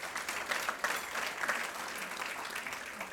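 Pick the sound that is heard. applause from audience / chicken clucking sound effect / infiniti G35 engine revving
applause from audience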